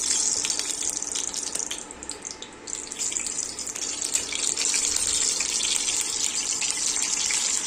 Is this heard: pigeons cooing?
no